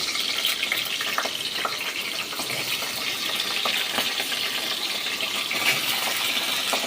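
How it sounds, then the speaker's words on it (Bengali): Potatoes frying in a pan, a constant bubbling sizzle with scattered small crackles and scrapes as they are stirred. "এবার এর মধ্যে আমি আগে থেকে কেটে রাখা আলুগুলোকে দিয়ে ভালো করে ভেজে নেব"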